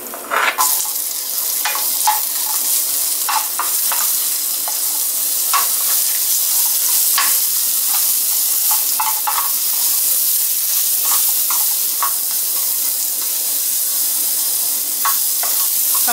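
Onion frying in a small amount of oil in a pan for Chinese-style shrimp noodles, heard as a loud, continuous hissing sizzle with faint scattered crackles and no voices.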